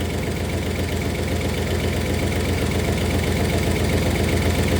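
A 1964 Oldsmobile 394 V8 idles steadily at close range, a low, even rumble with a faint repetitive valvetrain tick running through it, with no voices present.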